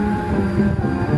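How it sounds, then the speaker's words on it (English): CSX mixed freight intermodal train rumbles past in Plant City, a brief close steady roll of rail cars with a faint squeal. "There it goes. CSX train QO46."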